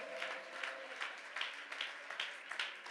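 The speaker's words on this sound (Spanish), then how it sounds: "Ahora dele ese aplauso a ese Dios" A church congregation applauds God during a Spanish-language sermon, with a steady wash of clapping and several sharper bursts that rise above it.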